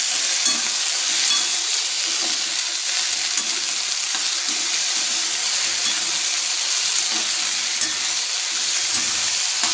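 Okra stir-fries in a pan with a loud, continuous sizzle, steady crackling frying noise throughout with faint scraping, no voices.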